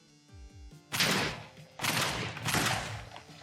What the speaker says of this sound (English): these are the high explosive rounds